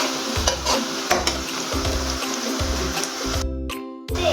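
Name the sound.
garlic ginger frying in pan for chicken biryani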